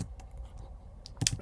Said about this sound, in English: so I'm just typing the get method over here.